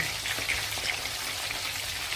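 Fish fries in a pan with a dense, steady sizzle and fine crackling spatter, close and unbroken throughout, with no voices.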